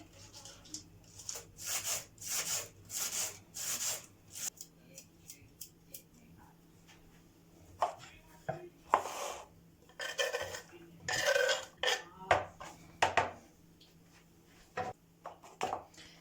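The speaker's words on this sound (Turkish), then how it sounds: "Şimdi yeşilliklerimi doğruyorum." Irregular bursts of knife strokes through leafy greens on a board, rasping cuts in quick clusters separated by pauses, close and moderately loud.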